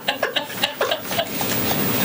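Birds in the tiled ceiling of a city council meeting room give a run of short, chirpy calls in quick irregular bursts, fairly close, over a constant background hiss of the room.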